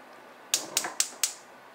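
A gas stove burner being ignited, four quick evenly spaced sharp clicks of the igniter, close and crisp against a quiet background.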